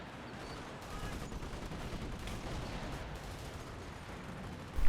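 Gunfire and explosions from a Stuka dive bomber attack in a WWII strategy video game, a dense, continuous rumble of shots and blasts at steady volume with a sharp burst at the end.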